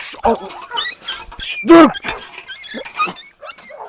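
A Kangal dog lets out a short, sharp high yelp after its paw is stepped on, close by, amid people's quick shushing and commanding voices.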